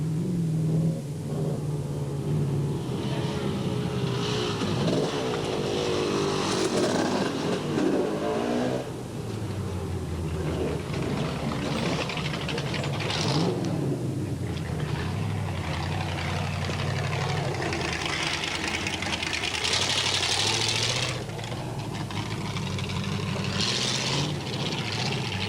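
Off-road racing vehicles at the 1995 Draper Off Road Challenge roar close by in a steady, dense engine drone with repeated revving swells and one engine dropping away as it stalls.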